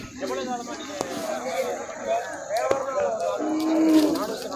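Cows lowing at a country cattle market, several drawn-out moos rising and falling across the clip, fairly close, with people talking underneath and general market bustle.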